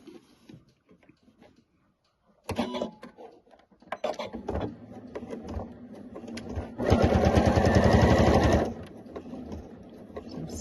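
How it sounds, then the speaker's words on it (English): A domestic sewing machine stitches a seam: a few light clicks and handling knocks come first, then a fast, loud run of needle chatter lasting about two seconds before it slows and stops. "So let me just sew the seam quickly."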